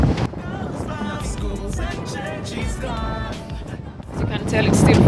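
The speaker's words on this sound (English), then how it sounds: "As you can tell, it's still very windy." Strong wind gusting hard against the microphone outdoors, a continuous rough rumble that swells loudly at the end, with a person talking over it.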